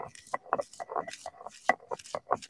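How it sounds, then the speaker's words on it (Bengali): Garlic and onion being ground into a paste, probably on a grinding stone, with quick rhythmic pounding and scraping strokes up close and no speech. "এবার রসুন পেঁয়াজ বেটে নিচ্ছে।"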